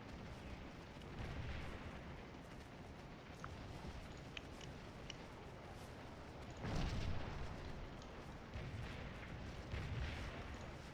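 Cannon and artillery fire in the Scourge of War Gettysburg battle game, a continuous rumbling din of distant booms with a louder burst of blasts midway, no talking.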